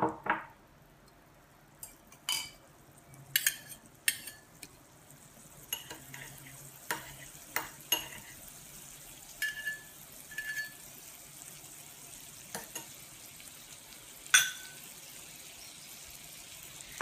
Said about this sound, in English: Melt butter over high heat.